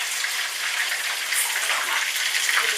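Water pours steadily into a pot of vegetables that are being cooked, a continuous close hiss and splash with no talking.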